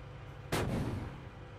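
A tank's guided missile launch and impact in the armored-warfare simulator Steel Beasts: one sudden loud broadband blast that tails off into a lingering rumble over roughly a second, with no talk.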